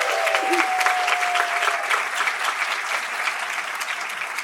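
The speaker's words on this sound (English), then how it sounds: "Let's give them all a round of applause." A room full of people at an honorees' presentation breaks into a sustained round of applause, loud and even clapping from start to finish, with a faint tone near the beginning.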